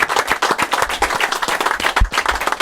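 A small studio audience claps for a retiring colleague, the separate hand claps distinct and closely spaced in a brisk, uneven patter.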